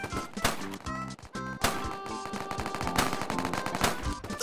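Rapid gunfire from the Roblox game Ragdoll Engine, a dense string of sharp shots and bursts mixed with game effects and music, loud and continuous with brief gaps.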